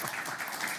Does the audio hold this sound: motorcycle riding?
no